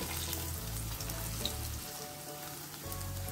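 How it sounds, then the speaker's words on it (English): Sesame seeds toast in a pan with a soft, steady sizzle and light crackle, fairly quiet and close, with no talking. "we are going to toast the sesame seed"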